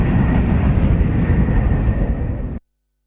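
Warplanes roar overhead in news footage, a loud, steady, broadband jet rumble that holds for about two and a half seconds and then cuts off abruptly to silence.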